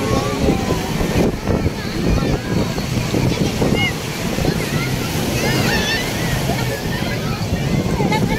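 Surf breaking near the shore with wind buffeting the microphone, a loud continuous wash of waves while people chatter close by.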